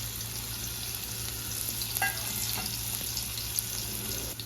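Onion frying in a little oil in a pan gives a steady, close hiss and sizzle with a few faint clinks, continuous throughout.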